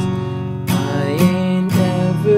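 An electric guitar plays the outro of a song, with sustained strummed chords ringing out and two fresh strums partway through, loud and close with no voice.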